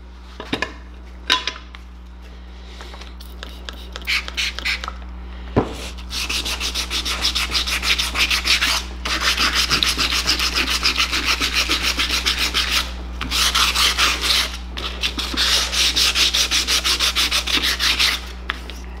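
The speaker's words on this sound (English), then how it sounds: "the aluminum is much tougher than this sandpaper is. You're really just getting the surface material off of there" Hand sanding of aluminum engine parts with sandpaper, in steady scratchy strokes over a constant low hum, starting with scattered rubs and then settling into long continuous passes, close and clear with no talk.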